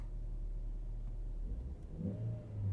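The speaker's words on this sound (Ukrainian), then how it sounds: "Двигун запускається чудово." A Volkswagen Passat B5 car engine with 207,000 km on it turns over and settles into a steady low idle, close by, with a slight rise in revs near the end.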